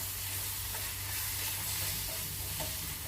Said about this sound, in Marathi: मसाले टाकल्यानंतर आपल्याला गॅस स्लो ठेवायचा आहे एक मिनिटभर आपण परतून घ्यायचे